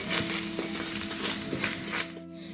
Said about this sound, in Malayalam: ഒഴിച്ച് നമുക്ക് വറുത്തെടുക്കാം.